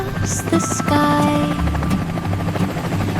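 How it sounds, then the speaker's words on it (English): A little animated cartoon helicopter flying, a loud steady buzzing drone of whirring blades with bright musical tones and small bouncy effects over it, heard close and continuous. "A little helicopter flew so high and bounced on clouds across the sky."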